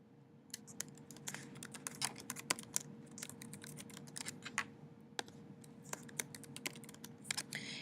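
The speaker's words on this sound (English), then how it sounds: "So here's where I type in my answers." Keys on a computer keyboard are tapped in quick, irregular bursts while answers are entered into a school assignment form, the clicks soft and close over a faint steady hum.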